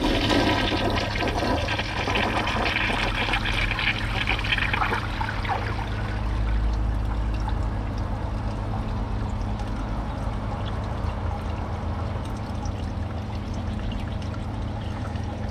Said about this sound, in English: I'm gonna give it a second flush after the tank is full.